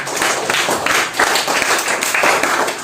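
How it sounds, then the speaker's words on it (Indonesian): A classroom of students claps for two classmates, steady dense hand clapping throughout, close and fairly loud, with no voices over it. "Tepuk tangan buat teman kita"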